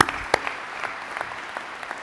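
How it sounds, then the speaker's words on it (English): Audience at an annual cooperative member meeting applauds a speaker coming to the stage, steady mid-distance clapping from a sizeable crowd throughout, with a faint voice briefly underneath. "Give Mr. Branham a big hand of applause as he comes."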